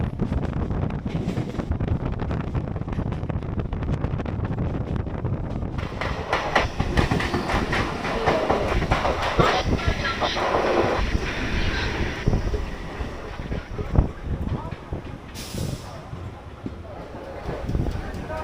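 A Howrah to Digha local train running on the tracks near Panskura, a steady rumble with clickety-clack and wind rushing past the microphone, a person talking over it the whole time.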